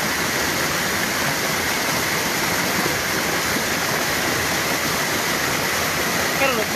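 Flash floodwater rushes in a dense, steady roar of churning water that fills the whole clip without a break.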